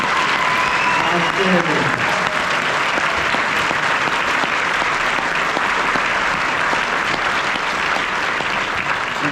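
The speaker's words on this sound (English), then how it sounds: "How about one more round of applause for these great performances?" An audience applauds after honor band performances, loud dense clapping sustained throughout, with a voice speaking briefly near the start.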